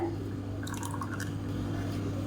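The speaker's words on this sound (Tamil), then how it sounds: "இப்போ மிக்சியை அலசிட்டு கொஞ்சமாக தண்ணி சேர்த்துக்கிறேன்" A little water is poured into a mixer jar in a kitchen, a faint trickling splash in the middle of the stretch over a steady low hum.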